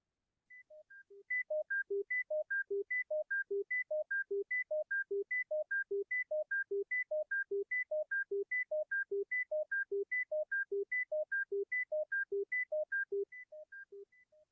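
A rapid, steady sequence of pure electronic tones alternating between a high pitch and a low pitch, repeating evenly for about fourteen seconds as an auditory test pattern, clean and alone with no voices.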